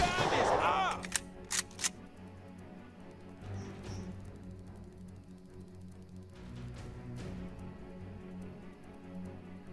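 Gunfire from a WW2 turn-based tactics video game: a short burst of sharp shots opens, followed by a few scattered reports and lingering echoes, moderately loud and close.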